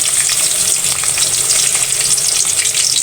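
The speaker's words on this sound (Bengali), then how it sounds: "প্রথমে রসুন দিয়ে দিয়েছি এখন সামান্য করে পেঁয়াজ দিয়ে দেবো বেশি দেবো না" Garlic and onion fry hard in hot oil in a pan, a loud, dense and continuous sizzle with occasional stirring scrapes, close by with no voices.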